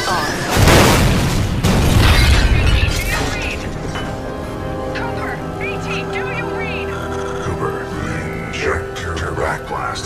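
The Fold Weapon in the Titanfall 2 video game sets off a heavy booming blast that swells and rumbles, then fades into lingering crackles and tones while a synthetic voice speaks.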